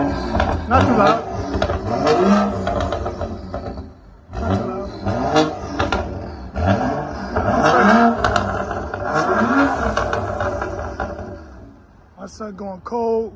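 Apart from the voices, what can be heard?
BMW X5 F15 N55 straight pipe engine revving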